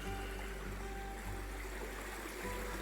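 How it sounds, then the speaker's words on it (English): Steady, gentle rushing of running water trickling over a small waterfall in Karijini, continuous and fairly faint, with no voices. "The water you can hear running is coming down a little waterfall there."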